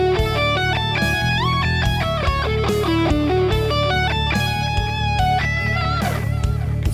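Electric guitar plays joined D Lydian arpeggios, a quick flowing run of clear picked notes over a sustained low backing, rising and falling in steady succession without any talk.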